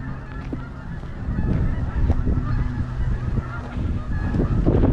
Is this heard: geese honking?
yes